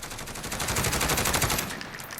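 A SIG 556 PDW rifle in Call of Duty Modern Warfare fires a rapid, loud stream of gunshots in quick succession, an unbroken burst lasting nearly two seconds before cutting off.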